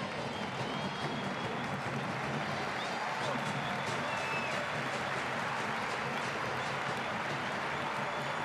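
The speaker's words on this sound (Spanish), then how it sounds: "El aplauso." Broad, distant stadium crowd applause and cheering at a farewell tribute for footballer Maxi Rodríguez, a steady wash of noise from the stands with no speech.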